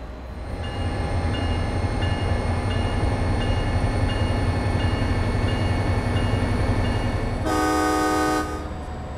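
An MBTA F40PH-3C diesel locomotive in Train Sim World 2 pulls out of Ruggles Station with a loud, steady engine drone and rumble, and a long horn blast sounds near the end.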